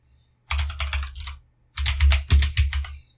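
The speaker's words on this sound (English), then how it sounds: "So we're going to type git config /global" Someone types a git config command on a computer keyboard in two quick bursts of close, crisp keystrokes separated by a short pause.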